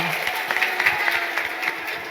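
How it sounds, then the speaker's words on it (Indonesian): Applause for a young performer named Iko at a live event with an audience, a dense, steady patter of clapping that stays at an even level throughout, with faint voices mixed in. "Tepuk tangan dulu untuk Iko."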